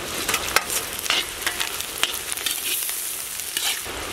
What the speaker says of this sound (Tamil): எண்ணெயிலே வெங்காயம் பச்சை மிளகாயெல்லாம் நல்லா வதங்கிடுச்சு